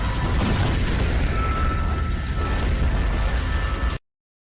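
Explosion sound effect from an animated fantasy battle, a loud, dense roaring rumble that holds steadily for about four seconds before stopping dead into silence.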